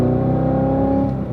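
A car engine pulls hard on a racetrack, its steady, loud drone rising as it accelerates through the gears, close and continuous with no talk over it.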